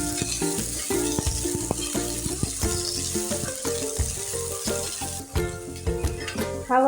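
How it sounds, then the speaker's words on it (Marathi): Fresh green peas sauté in oil over a medium flame, a steady close sizzle broken by clinks and scrapes of stirring, with no voice over it. "वाटाणा तेलावरती एक तीन ते चार मिनिटं मिडियम फ्लेमवरती परतून घ्यायचं आहे"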